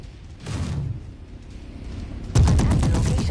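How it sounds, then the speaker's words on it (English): Autocannon turret fire in the MechWarrior 5 mech combat game: a short burst near the start, then a loud, dense run of rapid heavy shots kicking in near the end, sharply louder than before. "That was an auto cannon turret."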